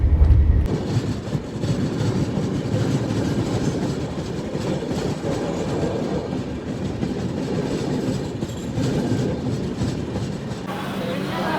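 The 12167 LTT Banaras SF Express runs at speed: a loud, steady rumble of wheels with rhythmic clickety-clack that continues throughout without a break.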